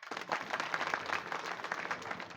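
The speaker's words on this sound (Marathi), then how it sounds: "याच्याकरता एकदा टाळ्या वाजवा." An audience at a Hindu religious discourse on Bhagavata and Rama katha bursts into brief, dense clapping, a short steady round of applause heard from a moderate distance.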